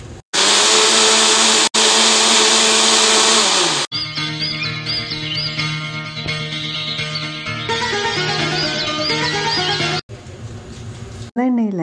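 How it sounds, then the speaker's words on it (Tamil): A mixer grinder blends cooled cooked manathakkali greens with tamarind, salt and chilli into thokku, running as a loud steady whir for about four seconds, then a lower, fluctuating grinding hum that stops and restarts briefly near the end. "இதை ஆற வச்சுட்டு அரைச்சி எடுத்துக்கலாம்."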